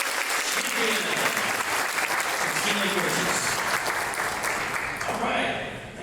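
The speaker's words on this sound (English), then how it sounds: "Another round of applause for tonight's Chamber Champion." A dinner crowd at a chamber of commerce awards night applauds the Chamber Champion winner, dense continuous clapping with scattered voices and cheers that fades slightly at the close.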